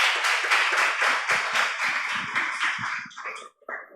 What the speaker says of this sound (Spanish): os pido por favor que le deis un fortísimo aplauso